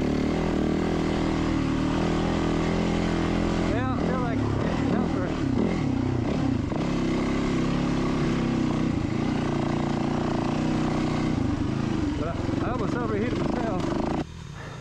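A dirt bike engine at full throttle during a district 37 hare and hound off-road race, a loud, steady drone with rising revs near the end, while a rider talks over it.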